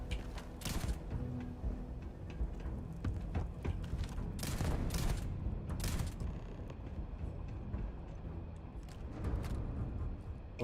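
A powerful weapon fires in the space game Starfield, with heavy bursts and booms arriving in irregular clusters over a dense, rumbling mechanical background, loud and close, with no speech.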